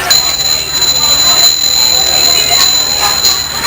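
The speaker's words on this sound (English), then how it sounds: "These are Tibetan bells" Tibetan bells ring with a sustained, bright, steady tone that lingers close and loud, with faint talking underneath.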